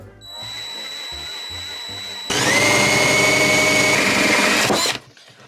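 A power tool cuts a hole for a tap aboard a narrowboat, starting with a lower steady whir, then jumping to a loud high-pitched grinding whine for a few seconds before winding down and stopping.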